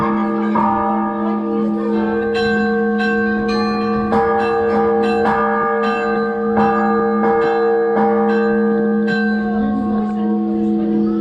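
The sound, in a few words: church bell being rung by visitors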